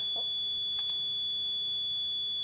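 Level alarm horn on a water-monitoring control system, sounding as a steady high-pitched continuous tone throughout, with a couple of faint clicks, moderately quiet and without talk.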